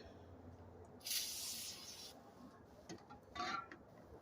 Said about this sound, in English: get you some brake parts cleaner